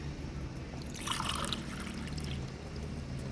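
Water is poured into a cooking pot for a chicken and rice dish, a short, steady splashing trickle at moderate volume with no voices.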